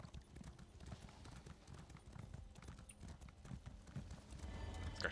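Steed hooves clip-clopping in The Elder Scrolls Online (ESO), a steady galloping rhythm of soft thuds running throughout, fairly close and moderately loud with faint game ambience behind.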